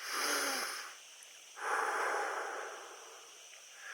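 Slow, soft breaths drawn through a slightly open mouth with little pressure, two long airy exhalations and a gentler third, close and quiet with no talking.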